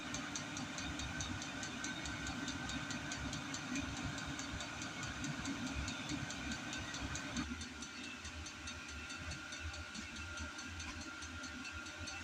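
A Chinese Vevor diesel heater running on heat setting 3 hums and whirs steadily with a faint rhythmic ticking pump, quiet and continuous, with a slight change in tone partway through.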